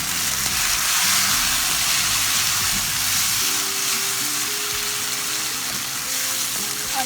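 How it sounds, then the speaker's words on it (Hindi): Masala of browned onion, ginger-garlic paste, tomato and spices frying in a pan for egg korma, a steady close sizzle with stirring scrapes and quieter background sounds, no talking. "और मसाले को अच्छी तरह भूनेंगे, उससे थोड़ा थोड़ा पानी डाल के"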